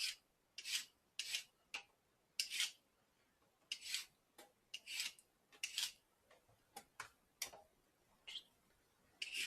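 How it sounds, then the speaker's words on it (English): Carrots scraped with a peeler in quick raspy strokes, about a dozen short bursts in an uneven rhythm, close and fairly quiet with near silence between strokes. "we're going to start by peeling these carrots over here"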